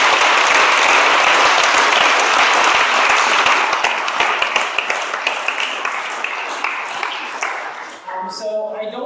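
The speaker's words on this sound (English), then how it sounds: "Let's give them a round of applause" A conference audience at EuroVis 2014 in Swansea, Wales, gives a sustained round of applause, dense and steady for most of the stretch before thinning into scattered claps, with a voice entering near the end.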